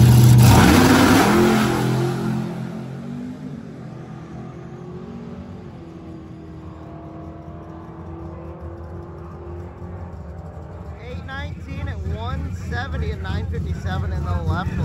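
A drag race car revs and accelerates down the strip, loud at first and then fading into the distance as it pulls away. A voice speaks over it and more engine noise builds toward the end.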